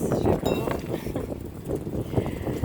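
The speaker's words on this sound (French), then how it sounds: "il y a beaucoup de vent, je crois que je vais continuer ailleurs" Strong outdoor wind buffets the microphone with a continuous low, roaring rumble that swells and dips throughout, masking everything else.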